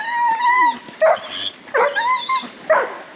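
A lurcher reacting to other dogs gives repeated high whimpers and yips with a few sharp barks, in three or four close, loud bursts.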